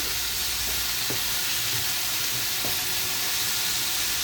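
Bitter gourd and potatoes frying in a pan give a loud, continuous close-up sizzle and hiss, with a few faint knocks of stirring.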